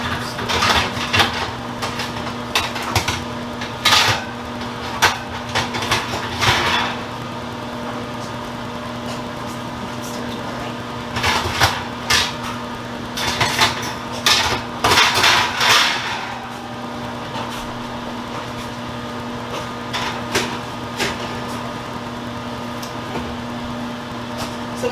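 Pan and rack being swapped in a kitchen roaster, with scattered metallic clanks and rattles in short bursts over a constant appliance hum, close and fairly loud.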